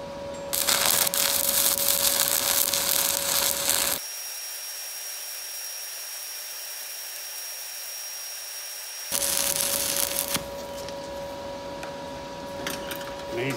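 Stick welding with eighth-inch rod at about 120 amps on a small Blue Demon Bluearc STI 200 DC inverter welder: a loud, steady crackling buzz with a constant tone runs in two bursts, separated by a quiet gap of about five seconds.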